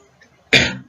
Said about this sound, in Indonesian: Maaf ya, agak sedikit batuk saya.